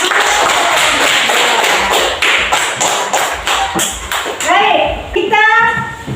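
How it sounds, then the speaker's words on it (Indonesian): Classroom applause for a student group after their presentation, dense clapping and tapping from many hands for several seconds, then fading as a voice and other voices speak near the end. "Mari kita beri tepuk tangan"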